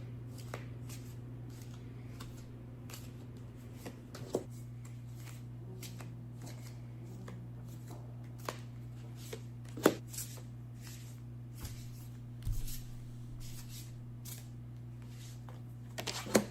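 Tarot cards shuffled by hand in a quiet room, soft riffling and crisp snaps repeating steadily over a low background hum.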